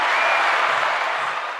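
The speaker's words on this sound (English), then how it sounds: "Yeah, let's get some hand claps on that." An audience gives a short burst of hand claps, a dense round of applause that is loud at first and tapers slightly over a second and a half.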